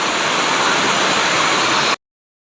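Heavy rain falls as a dense, loud, unbroken hiss, steady throughout, then stops abruptly just before the end.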